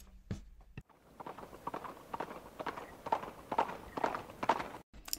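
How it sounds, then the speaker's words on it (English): Horse hooves clip-clop in a steady, uneven trot as a sound effect, moderately faint and heard alone without talk. "I'm sure you noticed that the horse sound on yours was there for a reason."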